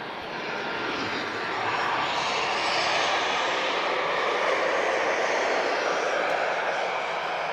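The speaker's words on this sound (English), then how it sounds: "another A330 departure now for Malaysia" An Airbus A330 jet departs Lisbon Airport on its takeoff roll, a loud, steady broadband engine roar that swells slightly and holds for several seconds with no talk over it.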